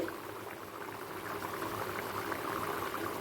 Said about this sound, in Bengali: পনিরটা ফুটে উঠেছে